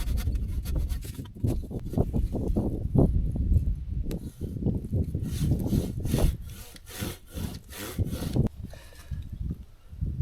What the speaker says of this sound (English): Best be getting the big handsaw out,